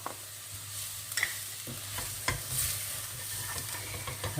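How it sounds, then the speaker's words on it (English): Spices, including chili powder and garlic powder, being stirred in a hot pan for a pork and pineapple dish, with a steady sizzle and occasional scraping clinks of the utensil against the pan bottom. "It's very important to keep stirring at this moment in time to stop the spices from burning the bottom of the pan"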